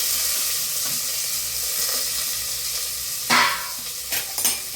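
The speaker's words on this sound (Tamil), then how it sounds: "கருவேப்பிலை போட்டுக்கிட்டு பச்சை மிளகாய் வெங்காயத்தை நல்லா உள்ள போட்டுக்கலாம்." Curry leaves, green chilli and onion fry in a hot pan for broken matta rice upma, a steady close sizzle with a sharp burst of crackling and stirring scrapes near the end.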